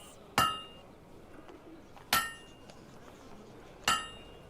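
Three evenly spaced ringing metallic strikes of a hammer on a sword blade at a forge in Fable II, each sharp and bright with a short decaying ring over a quiet background.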